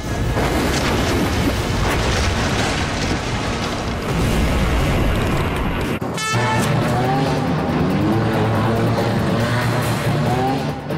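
A fast sports car that reaches 60 mph in 2.8 seconds roars loudly as it accelerates, with the engine note dropping sharply at a gear change before climbing again, close and continuous.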